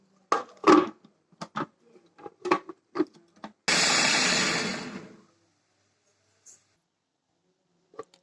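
A few taps and clicks, then a blender roars loudly for about a second and a half blending apple, sugar and water into juice, before winding down into silence.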